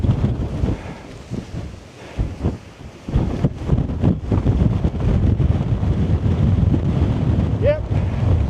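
Wind gusts across an exposed hillside, buffeting the microphone with uneven low rumbling surges that come and go, and a brief faint chirp sounds near the end.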